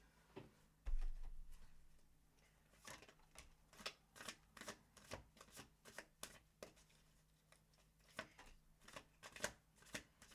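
Tarot cards being shuffled by hand, a dry papery riffle and slap repeating in irregular bursts, close and quiet with no voices.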